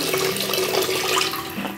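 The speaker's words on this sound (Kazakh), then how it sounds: "Енді біз жаңа суымызды әбден қайнаған суымызды қойдық. Енді осыны құйып аламыз" Freshly boiled water pours steadily into glass preserving jars, a close, continuous splashing stream with a rising gurgle as the jar fills, with no voices.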